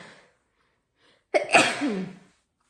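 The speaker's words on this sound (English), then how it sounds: "I'm gonna sneeze." A single sharp sneeze bursts out after a moment of near silence, close and loud.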